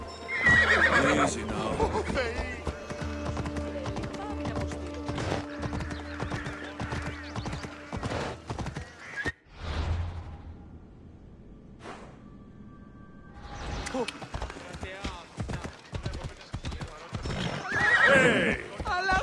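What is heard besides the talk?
horse galloping, hooves and neighing, in Assassin's Creed Odyssey video game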